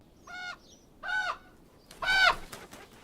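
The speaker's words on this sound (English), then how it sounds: "Oh, that bird's flying." A bird in a Game of Thrones episode gives three clear, harsh calls spaced about a second apart, fairly close and alone against a quiet background.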